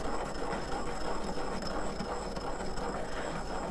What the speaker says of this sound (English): when you grind it, you need to add the sugar to keep it from just sticking to itself